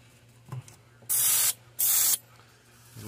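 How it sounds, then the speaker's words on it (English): A can of sapphire blue spray paint is used on a fishing lure in a threadfin shad pattern, two loud, close hissing bursts of about half a second each with a short pause between, over a quiet room hum. "we're just gonna take and spray it right over the top of the back"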